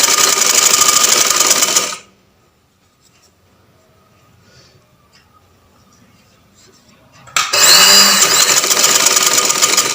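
A sewing machine stitches along a curved hem edge with two loud, close runs of rapid stitching. A quiet pause with faint handling sounds separates them.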